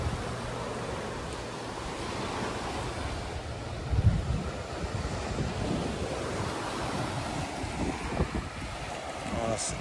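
Waves breaking on a beach beside a sand-floor beachside restaurant, a continuous roar of surf mixed with wind buffeting the microphone, loud and near, with no clear talk.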